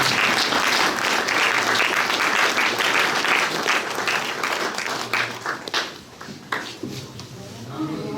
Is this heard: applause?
yes